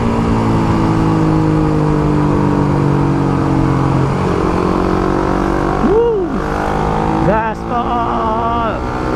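A motorcycle fitted with a racing exhaust is throttled hard, a loud, close engine drone that climbs into several sharp rising revs toward the end.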